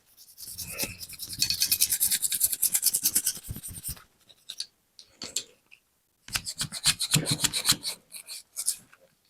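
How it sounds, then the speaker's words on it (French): A toothbrush scrubs a Beretta 92 (PAMAS G1) pistol part with Armistol cleaner, rapid rhythmic rasping strokes in close bursts, a pause with a few light scrapes, then another burst of brisk scrubbing. "Armistol, brosse à dents."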